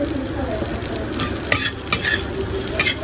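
Bitter gourd fried in a pan and stirred, with a steady sizzle of oil and a few sharp scrapes of the spatula against the pan.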